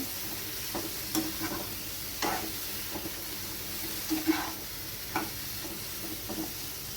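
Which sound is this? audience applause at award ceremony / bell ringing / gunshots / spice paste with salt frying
spice paste with salt frying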